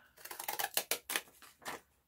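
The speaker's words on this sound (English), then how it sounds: "Let's get my scissors out here" Quick series of crisp snipping cuts from scissors, about eight sharp snips in rapid succession, close and fairly quiet.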